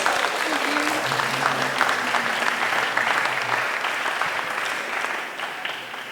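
A crowd claps steadily in sustained applause, loud and dense at first, then tapering slightly toward the end.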